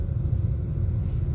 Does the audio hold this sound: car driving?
yes